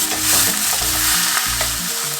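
Ground venison and pork fry loudly in a cast iron pan, a dense close sizzle with intermittent scraping stirs.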